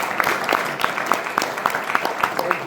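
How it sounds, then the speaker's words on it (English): Crowd at a county commissioner candidate forum clapping for a candidate, a moderate continuous spread of handclaps with scattered louder individual claps, near and without talk. "let's give him a round of applause"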